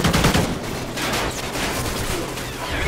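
Rapid automatic fire from a sentry gun in Call of Duty: Ghosts, a dense, continuous burst of gunshots lasting throughout, loud and close, with no talk over it.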